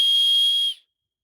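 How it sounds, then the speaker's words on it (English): A single sustained high whistle is blown by a person outdoors along a wooded river, steady and clear for under a second before cutting off cleanly into silence. "Let me try another whistle here."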